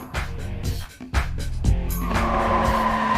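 A four-wheel drive car drifting at full throttle, its engine roaring up close while tires squeal and skid in bursts that settle into a steady screech.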